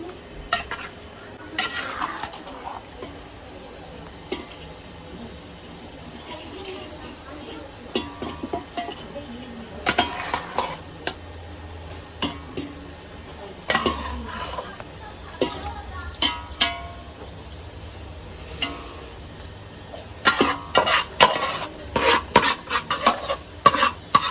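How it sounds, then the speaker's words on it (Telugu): A ladle stirs and scrapes soaked prawns through a Hyderabadi-style prawn biryani pot, with clinks of metal on metal and a soft sizzle underneath, close up, growing busier toward the end, with brief talk at times. "ఇప్పుడు అర్ధగంట నానబెట్టుకున్న రొయ్యలు మంచిగా కలుపుకొని మళ్ళీ వేసుకోవాలి."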